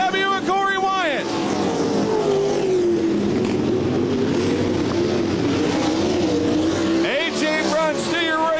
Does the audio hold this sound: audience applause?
no